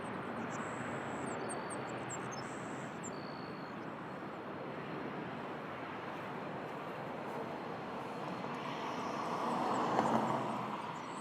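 Airliners at Toronto Pearson airport, heard as a steady, faint, distant broadband engine roar that swells slightly near the end, with no voices.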